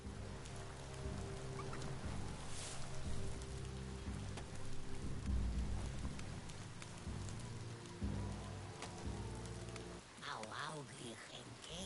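Steady video game rain patters on a surface with some low rumbling underneath, while a voice and clicking sounds come in near the end.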